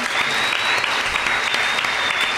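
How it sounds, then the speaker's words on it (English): A comedy-show crowd at Saved by the Max breaks into loud, sustained applause, a dense wash of clapping filling the room continuously with a faint steady whistle-like tone running underneath. "Give yourselves a round of applause"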